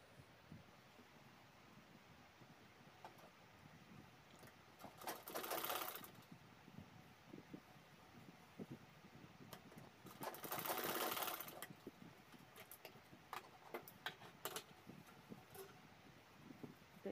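A sewing machine stitches a cloth ladies' shopping bag in two short whirring runs, quiet and close, over faint background rustle.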